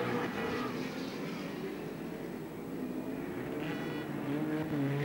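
A race car pulls into a pit stop during the 1986 Nissan Mobil 500, with a steady engine roar and a rushing noise that carry on throughout without pause.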